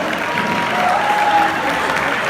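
A dense crowd claps and cheers, with a brief whistle cutting through the continuous applause.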